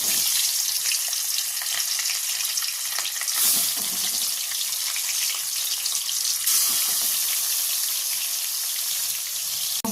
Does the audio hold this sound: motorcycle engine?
no